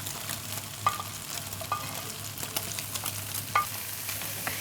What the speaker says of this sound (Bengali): এখন আমরা সবজি সব একসাথে দিয়ে দিচ্ছি